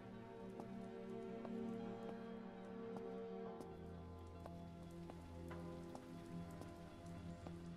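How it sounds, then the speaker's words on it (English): In the zombie survival game SurrounDead, rain falls as a faint, even patter with scattered drip ticks, layered over a low ambient game drone, with no speech. "And obviously weather, because it's raining."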